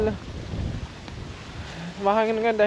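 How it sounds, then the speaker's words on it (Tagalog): Wind gusting across a backyard vegetable garden during planting, a broad rushing noise filling the first part before a voice starts speaking over it. "mahangin ngayon"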